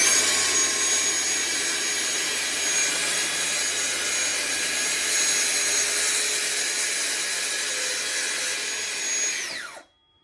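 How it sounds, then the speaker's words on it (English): Track saw ripping through scrap wood for a holiday gift project, a steady loud high-pitched motor whine with cutting noise held for about nine seconds, then spinning down quickly at the end. "And we're going to make a cut with the track saw."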